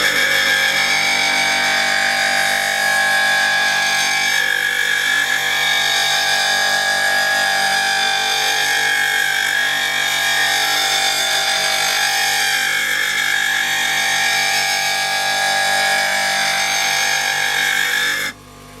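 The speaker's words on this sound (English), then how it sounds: "once you see sparks coming over the top of the tool, it means it's actually cut, it's sharpening right across it" A bench grinder sharpens a woodturning tool, a loud, steady high-pitched grinding whine with slow swells in pitch as the tool is pressed and moved across the wheel, ending abruptly near the close.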